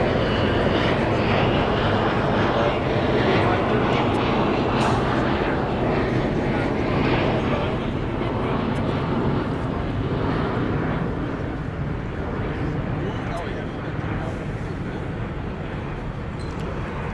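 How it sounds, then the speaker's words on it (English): At LAX, an American Airlines Airbus A321 lines up for takeoff, giving a broad, steady jet engine roar heard from a distance. Faint speech sits underneath the noise. "American Airlines Flight 2 is lining up to go to JFK Airport. Be an Airbus A321"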